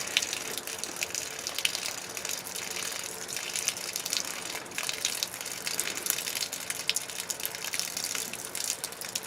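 Water gushes and drains steadily from a bucket of a hydroponic tomato setup in a continuous rushing splash, close by and fairly constant throughout.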